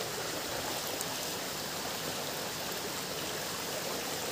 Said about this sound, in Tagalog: Ang tanging maririnig mo lang ay ang ragasa ng tubig